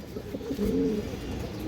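Three female pigeons of fancy breeds coo softly, a short rolling coo phrase rising in the middle of the clip over faint background noise, with no talk.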